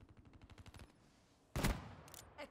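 Gunfire in Call of Duty Black Ops 3: a faint rapid rattle of shots, then a sharp, louder burst with a short trailing echo and a few quieter pops after it.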